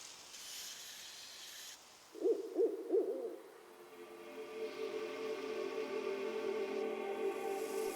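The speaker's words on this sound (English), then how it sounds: "Eu acho a coruja tão bonita." An owl in the video game Season: A Letter to the Future gives three soft, evenly spaced hoots, clear against quiet ambience, followed by a steady hiss.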